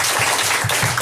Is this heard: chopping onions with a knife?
no